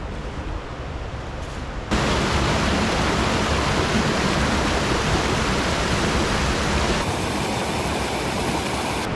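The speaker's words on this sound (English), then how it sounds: "view of that big waterfall up there" A big waterfall in the Appalachian Mountains roars as a loud, continuous broadband rush that swells in abruptly after a quieter opening and holds steady throughout, with no talk.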